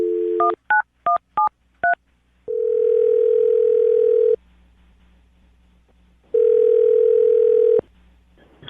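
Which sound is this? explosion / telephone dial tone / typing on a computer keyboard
telephone dial tone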